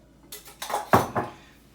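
A hot can being lowered into a bowl while making leche quemada, giving a few quick metallic clinks and knocks close by, with one sharper clank in the middle and no talking.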